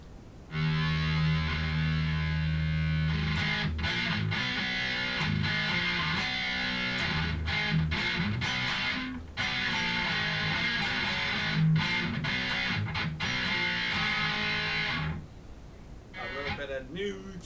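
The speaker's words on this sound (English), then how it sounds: "that's my main distortion. You can hear it. It's pretty cool." Thick, buzzing distorted electric guitar playing chords and riffs, loud and sustained, cutting out near the end.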